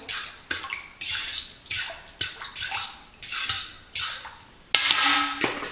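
Sugar and ingredients beaten together in a bowl with a utensil for cinnamon buns, a steady series of scraping, clinking strokes in rhythmic bursts, close and fairly loud with no talk.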